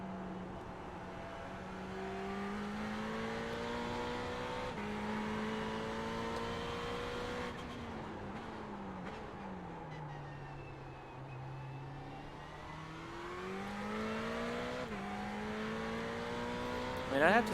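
Ferrari 488 GT3 race car engine in the iRacing sim at Tsukuba, its pitch rising and falling through gear changes and corners, a steady moderately loud drone throughout.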